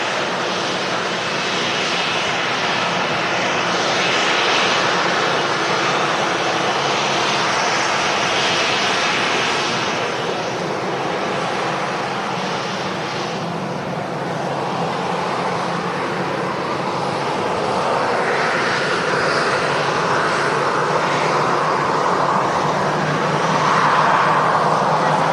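Aircraft engines roar at Manchester Airport, a continuous loud broadband rush that swells and shifts in pitch as a plane moves, holding steady for the whole stretch with no speech.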